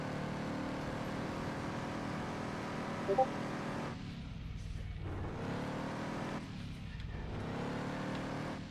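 Engine of a car driving in a racing video game, a steady droning hum with rising and falling pitch as it accelerates and shifts, moderately loud and alone.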